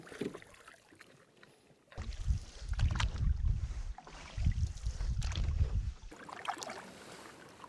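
Canoe paddling across a lake in the Boundary Waters wilderness: two bursts of low rumbling water and wind buffeting, with quieter splashy gaps between strokes.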